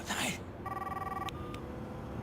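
In the video game Saints Row, a telephone gives a short electronic ring with a sustained tonal buzz and a brief repeat, heard close over a background hum.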